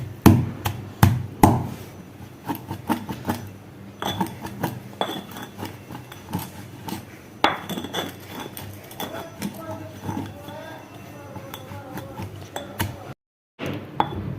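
A new mortar and pestle pounds a mixture finely, blackened rice among it: sharp, loud thuds and scraping knocks close by, with a quick cluster at the start and irregular strikes and grinding afterward.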